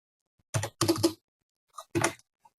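Login details typed on a computer keyboard: a few quick bursts of close key clicks separated by short pauses, heard alone.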